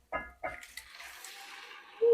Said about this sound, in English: This was a 28-ounce can of San Marzano whole peeled tomatoes that we just added in.